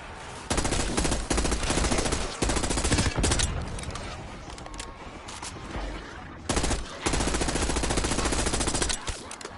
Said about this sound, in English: KSV. Did someone sand down your rough edges? Submachine gun. Nice. Fully automatic.